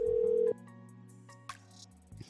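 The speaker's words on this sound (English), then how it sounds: "Oh, my friend is calling." FaceTime incoming-call ringtone on a phone, a clear tonal chime with a sustained note followed by softer layered tones, close and fairly loud, with no speech.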